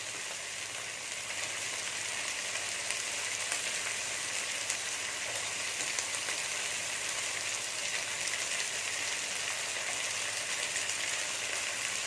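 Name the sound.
sautéing turkey berries (sundaikai) in a pan while stirring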